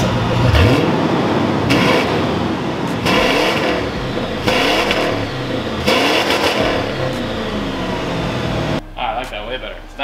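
A 1964 Ford Galaxie Ruffian's engine revs repeatedly at a SEMA show, several loud throttle blips rising and falling close by, with the engine cutting out near the end.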